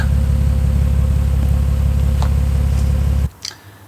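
A Lexus IS300 with a quiet aftermarket Revel/Tanabe Medallion Touring exhaust idles with a steady, low, smooth hum, then cuts off abruptly near the end, leaving a brief faint clunk.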